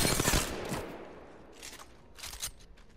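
Rapid gunfire rattles in the Apex Legends video game while the player strafes and controls recoil, with a dense burst at the start followed by two shorter volleys, close and sharp.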